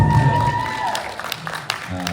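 Audience members at a fan expo Q&A in Orlando with a guest applaud in a brief, fairly soft burst of clapping beneath a speaking voice.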